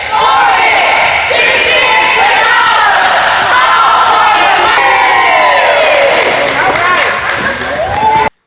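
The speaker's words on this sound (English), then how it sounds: "I'm going to see if I can put up the cheer we did in the middle of the gym floor" A group in a school gym chanting a cheer together, loud shouted unison voices with whoops and crowd noise ringing in the hall, sustained for several seconds before cutting off abruptly.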